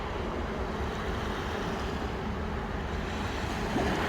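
Ocean waves wash up onto Caribbean beach sand in a steady, broadband rush. The surf roars without a break and swells slightly near the end, with a little wind noise on the microphone.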